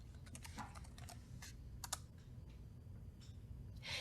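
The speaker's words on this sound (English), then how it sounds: "And now we'll mark it as active by simply typing active." Rapid clicking keystrokes on a computer keyboard as a command is typed for disk partitioning in an IT support lesson, a close, quick run of taps alone over a low steady room hum.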